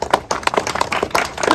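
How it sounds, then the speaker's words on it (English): Audience applause at a press conference in Memphis about a soccer venue for 901 FC, a short burst of steady, fairly close clapping from a crowd with no talk over it. "I get applause"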